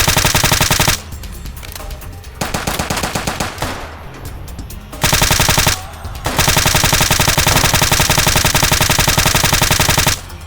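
Loud, dense automatic gunfire from the video game Fallout New Vegas, with sustained rapid bursts broken by a few short pauses.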